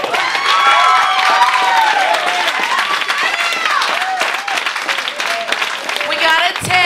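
Loud audience applause and cheering at a slam poetry competition, with dense clapping and rising whoops and shouts running steadily through the whole stretch.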